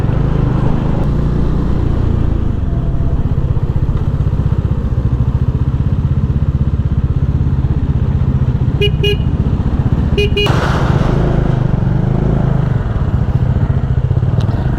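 A Bajaj Dominar motorcycle rides on the road with a loud, steady engine drone and wind rumble throughout, broken by two short horn toots near the end.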